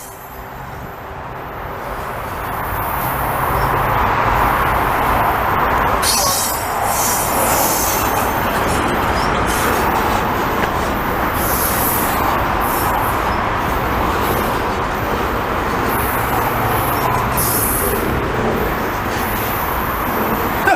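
A CP freight train led by a rebuilt locomotive rolls past Lachine station in Montreal, loud and close, with a steady roar of rumbling cars and sharp wheel squeals throughout.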